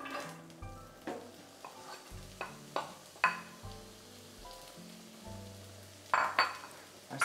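Onions sauté in a pot for turkey pot pie, a soft continuous sizzle punctuated by repeated stirring scrapes and clacks of a spoon against the pot, fairly quiet and close.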